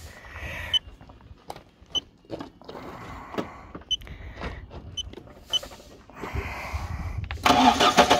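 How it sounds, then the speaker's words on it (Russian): A car is started during battery testing, with the starter cranking in short bursts among clicks and knocks before the engine catches and runs louder toward the end, fairly close. "давайте заведем машину"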